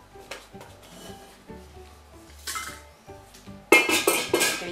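Several clinks and clunks of a ceramic bowl and steel pot being handled and warmed with boiling water, with a brighter clatter near the end; no talking.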